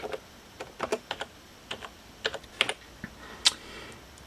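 Keys clacking on a computer keyboard while a search phrase is entered, a short burst of separate, irregular taps close to the mic, followed by a few isolated keystrokes and one sharper final press.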